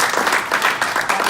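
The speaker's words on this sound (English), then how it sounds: "let's give Choose Your Reader a round of applause" Audience round of applause for a presenter at a small event, a short burst of clapping from a modest group, fairly close and loud.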